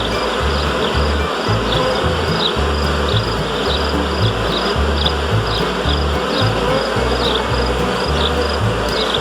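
A honeybee swarm buzzes continuously during swarm season, a dense steady hum heard near and loud. A regular low throbbing pulses under the buzzing throughout, and no one speaks.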